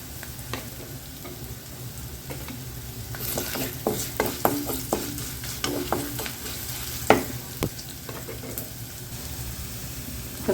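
Mustard seeds, fennel, ginger, garlic, dried chillies and curry leaves crackle and sizzle in hot oil for roadside-style idli sambar, with sharp irregular pops and bursts over a steady frying hiss while it is stirred. Nobody speaks.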